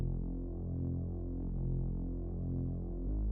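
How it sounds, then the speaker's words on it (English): Sub bass synth patch from Analog Lab playing sustained root notes, a deep, smooth, continuous low tone with a gentle throb that shifts pitch near the end, heard alone. "I pulled up Analog Lab, found a sub bass, and just played out the root notes."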